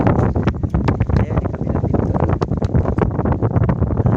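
Strong monsoon wind gusting over a fishing boat at sea, roaring and buffeting the microphone in loud irregular bursts, with someone speaking briefly under the noise.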